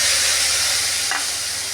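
Spice paste sizzling as it goes into hot oil in a kadai while cooking a Bengali dal-and-potol dish, a steady broad hiss and crackle of frying throughout with a brief louder burst near the middle.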